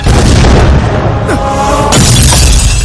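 A loud, deep boom from a Tamil movie scene fills the clip with a sustained roaring rumble and crackle, with no talk over it.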